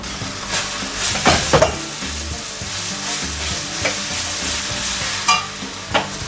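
Ingredients for vada curry sizzle steadily in a hot pan while a utensil stirs and scrapes, with a few sharper clinks along the way.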